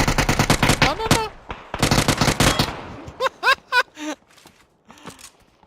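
Video game firefight with sniper and automatic shotgun fire: rapid bursts of sharp shots in two dense volleys, then several spaced single blasts, with a voice speaking briefly between them.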